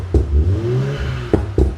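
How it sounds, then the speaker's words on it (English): A Toyota Supra 3.0-litre with a Remus exhaust in sports mode gives a brief rising engine rev, framed by a few sharp mechanical clunks, close and loud for under two seconds. "we'll check out how the Remus exhaust sounds on the 3 litre Supra"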